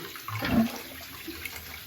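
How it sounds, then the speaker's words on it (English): Cold water running from a tap during a straight razor shave: a brief gush as the flow starts, then a steady splashing stream, close and alone without talk. "I'm going to run some cold water."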